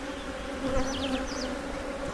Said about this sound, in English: I don't know why these bees are so aggressive.